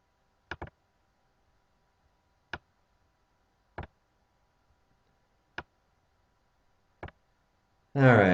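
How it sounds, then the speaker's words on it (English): A computer mouse clicks a spreadsheet tab: five sharp, separate clicks spaced a second or more apart in near silence, close by, followed by a brief burst of voice at the very end. "do you see what I just did? I clicked this tab"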